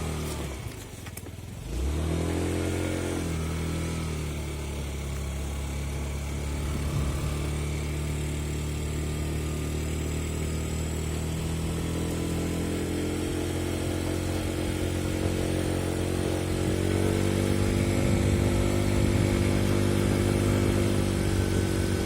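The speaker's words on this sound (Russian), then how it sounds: "тут видно, что звук превращается в резонанс от оборотов" A Yamaha Gear 4T scooter engine running close by with a persistent odd resonant noise, a steady hum that swells gradually as the revs climb over about twenty seconds, with no voices.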